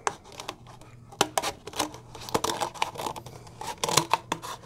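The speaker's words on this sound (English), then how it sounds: "just take a sharp knife, poke a starter hole in this to get it going. And then what we're going to do is just cut this out." A sharp knife cuts through a plastic container, giving quiet, irregular crackling snips and scratchy cuts in quick bursts, close by in a quiet room.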